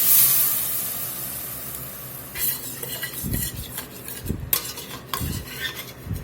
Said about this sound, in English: I'm going to go in with a little bit of this turkey broth to deglaze